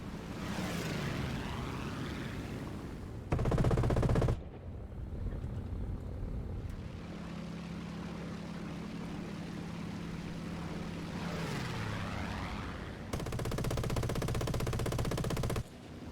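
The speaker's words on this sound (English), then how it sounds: "Two Gladiators intercepted the formation, and a dogfight between one of them with a C-200 developed." A WWII dogfight over Malta between a Gloster Sea Gladiator and an Italian Macchi C.200: droning piston engines and diving aircraft swoops, punctuated by two loud, sustained bursts of rapid machine-gun fire.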